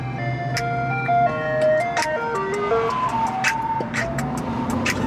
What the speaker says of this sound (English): Ice cream truck, he out here.